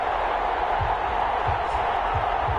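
Steady roar of a stadium crowd in Madden 21 before a Green Bay Packers versus Detroit Lions game, with low rhythmic thumps under a broadcaster's voice.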